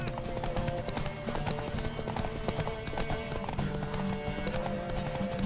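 Steady, rhythmic clip-clop of horse hooves at a trot in The Witcher 3: Wild Hunt, continuous and fairly loud, layered over a busy synthetic game soundscape.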